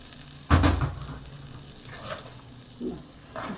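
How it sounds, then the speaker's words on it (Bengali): Prawns in a coconut-milk malai curry in a pan: a loud, close splash and sizzle for about half a second as the liquid hits, then a softer, steady simmering hiss with a few faint scrapes. "এখন আমি বাকি নারকেলের দুধগুলো দিয়ে দিব।"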